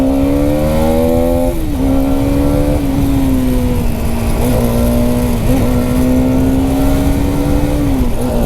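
A Hero Karizma XMR 210 motorcycle engine drones loudly as the rider rolls on the throttle, pitch rising through a few gear changes with brief dips between pulls, close and steady with no voices.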